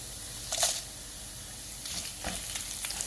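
Red chili and garlic sizzling in hot oil in a pan for a Kerala-style dragon chicken, a steady broadband fry hiss with a brief louder burst as the chili goes in and light stirring clicks, no voices.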